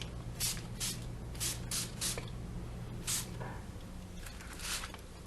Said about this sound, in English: So I just sprayed it.